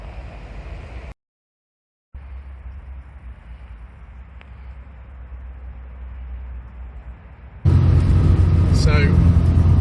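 A 1968 MG Midget Mark III drives along country lanes, its engine a steady low rumble with road noise throughout; the sound cuts out briefly near the start and grows much louder and brighter toward the end.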